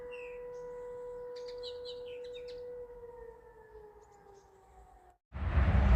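A steady, wailing air raid siren drones from a distance for about five seconds, with birds chirping faintly over it, before a loud burst of noise cuts in.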